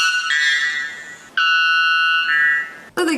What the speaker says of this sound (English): This is the world's loudest bird.